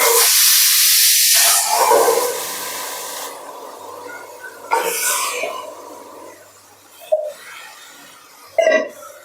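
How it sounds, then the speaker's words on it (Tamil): Mutton hitting a hot pressure cooker: a loud, bright hiss of sizzling that swells at first and then settles into a softer crackle, with a few sharp bursts of spitting toward the end. "குக்கர் சூடாயிடுச்சு இப்போ இந்த மட்டனை நான் இதில் போடுறேன்"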